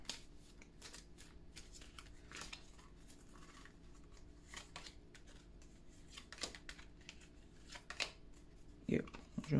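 Oracle cards riffled and shuffled by hand for a monthly reading, a steady run of soft papery slaps and flicks close to the mic, with a brief voice near the end.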